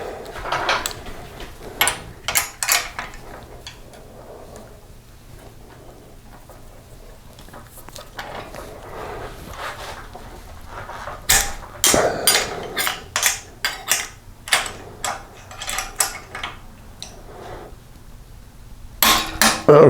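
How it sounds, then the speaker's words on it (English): A torque wrench tightens the fork tube cap nuts on a 1983 BMW R100RS/RT motorcycle, giving clusters of sharp metallic clicks and knocks close by, separated by quieter pauses of handling. "Okay, now it's torqued to 80."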